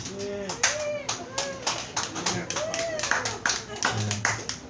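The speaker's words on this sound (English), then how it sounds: "Scattered applause is about all you can expect at King's Pizza" Scattered handclaps at a comedy open mic night at King's Pizza, a few uneven claps over a few seconds mixed with crowd voices and murmuring.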